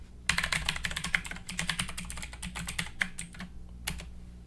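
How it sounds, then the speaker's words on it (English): Steady typing on a computer keyboard, close and clear, a rapid run of individual key clicks with a short pause before a final few taps. "I'm going to type in my email."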